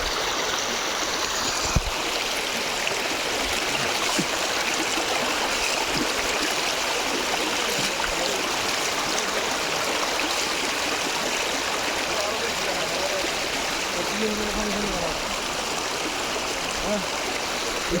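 Cold stream water flowing from India rushes steadily and loudly, a constant close roar with gurgling texture and a few faint bumps, no voices heard.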